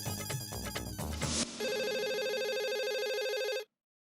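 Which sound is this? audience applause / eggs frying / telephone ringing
telephone ringing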